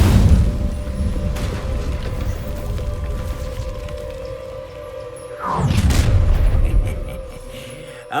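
Hogwarts Legacy's Incendio fire spell is cast in the game, a heavy booming burst with a thudding whoosh about two-thirds through, over a steady low game ambience and hum.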